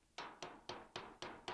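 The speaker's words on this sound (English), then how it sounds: "I'm going to grab this hammer right here, and I've got my punch" A hammer taps a punch to drive out the barrel pin of a CVA Apex muzzleloader, six sharp, evenly spaced metallic strikes, close and alone.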